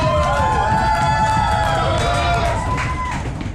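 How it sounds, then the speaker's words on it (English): A crowd at a sumo match cheers, whoops and yells continuously, a loud dense roar of voices with whistles on top that eases slightly near the end. "Now's your chance to cheer. Make some noise for your wrestler."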